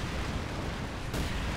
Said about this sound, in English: we got incendiary barrels going down in the Pack 40 position